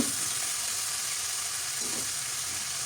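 Spices sizzling and frying in a hot pan for a fish curry: a loud, continuous close hiss with faint stirring scrapes mixed in, steady throughout.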